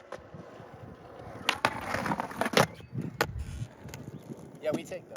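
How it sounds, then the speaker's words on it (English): A skateboard grinds along the bare concrete edge of a manual pad outdoors, giving a short scraping grind with scattered wheel clacks and knocks at moderate level. "So when I get some grinds on it, it sounds nice and it feels good too."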